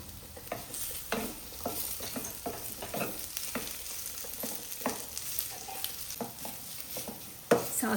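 Whole dates heat in a large pan for dry-fruit laddu, giving a soft frying hiss under repeated scraping strokes of a spoon, and a louder knock near the end.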